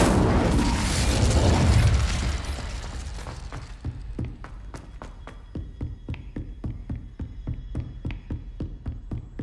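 A fire spell cast in the Hogwarts Legacy video game: a loud, roaring burst of flame swells for about three seconds, then gives way to a steady run of sharp crackling pops.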